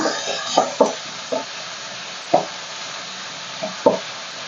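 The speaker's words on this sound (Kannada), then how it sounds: "ಕರ್ಬೇವಿನ ಸೊಪ್ಪು ಹಾಕಿದ್ದೀನಿ ಅದರಲ್ಲೇ ಇವಾಗ ಚೆನ್ನಾಗಿ ಫ್ರೈ ಮಾಡೋಣ" Curry leaves and chopped vegetables frying in a pan, a soft steady sizzle broken by several sharp scraping knocks of a spoon stirring against the metal, close and clear with no talking.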